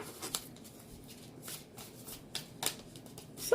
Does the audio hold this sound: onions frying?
no